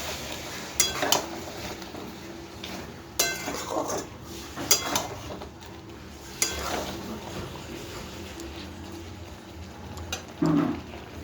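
Spice paste of ginger, onion, garlic, cumin, coriander, bay leaf and whole garam masala cooks in a pan, with a soft sizzle under repeated scraping and clinking of a utensil against metal at uneven intervals.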